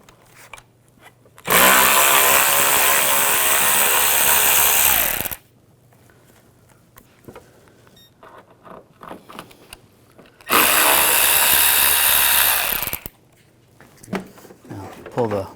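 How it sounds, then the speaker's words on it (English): A power socket tool with a T25 socket drives screws out from under the front bumper of a 2006-2010 BMW 550i in two loud whirring bursts of a few seconds each, separated by a quieter stretch of handling noise and talking. "Underneath here, there's two screws, one on each side. We're going to use a T25 socket. Take these screws out."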